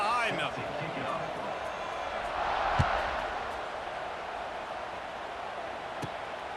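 Stadium crowd noise in the College Football 26 video game, a steady broad roar of fans around a kickoff that swells briefly in the middle, with a faint sharp thud near the peak.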